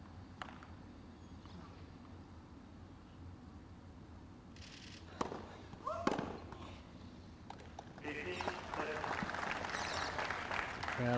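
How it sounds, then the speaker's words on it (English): Spectators at a women's tennis match at the Hobart International clap to urge a player on. After a quiet stretch with scattered clicks, applause swells over the final few seconds while a commentator talks. "Crowd just trying to urge her on."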